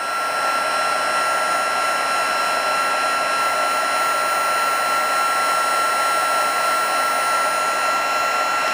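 A heat embossing tool warming up while stamping and embossing scalloped papercraft: a steady, loud blowing whir with a high whine, running continuously and alone with no talking.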